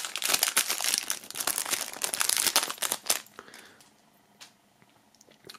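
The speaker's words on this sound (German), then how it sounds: "Also das hier noch aus der Folie holen." Plastic shrink-wrap film is pulled and crinkled off a boxed music album set, giving about three seconds of dense, close crackling and rustling before it fades to a few soft handling clicks.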